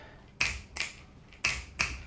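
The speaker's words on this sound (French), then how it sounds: "les bruits de claquements de doigts, que ça se mélange aussi avec les bruits des chaussures." Four crisp finger snaps ring out in an uneven rhythm, quiet and close, each a short bright click with a brief tail over a faint background.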